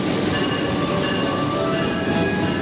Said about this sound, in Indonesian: Jadi kita naik kereta api Cakra Buana relasi Gambir Purwokerto dengan menggunakan kereta